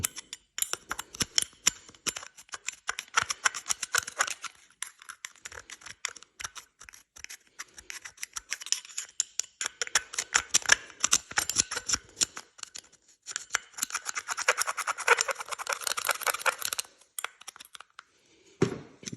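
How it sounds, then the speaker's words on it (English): A small wire brush scrubs corrosion from an ATV or motorcycle carburetor, bursts of rapid close scratching and bristle rasping in uneven strokes with brief pauses. "A little wire brush, if you have one that fits in there good, is good, but you really want to get up around the edges and things where the corrosion builds up"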